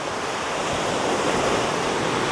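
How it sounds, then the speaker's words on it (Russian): Sea waves washing onto a beach in Spain, a steady broad roar of surf with wind buffeting the microphone, alone with no voices. "Немного моря во влог."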